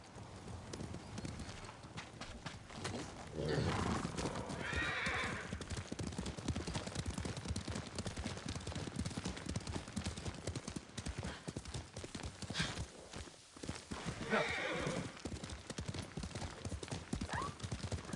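Horses gallop hard in Ghost of Tsushima, a dense, continuous thunder of hoofbeats with a couple of whinnies rising above it, while voices speak briefly over the ride.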